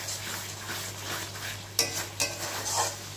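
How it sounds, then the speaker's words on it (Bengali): Egg curry base with turmeric is stirred and sautéed in a pan, a soft continuous sizzle broken by a few sharp scrapes and clinks of the spoon against the pot, with no speech. "এবার এটাকে হলুদটা দিয়ে একটু কষিয়ে নিতে হবে"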